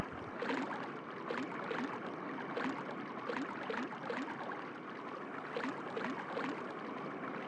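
Steady rushing flow of water at a waterfall in the video game Dino Crisis 2, a continuous broadband wash with faint gurgling pulses throughout, even and moderately loud with no voices.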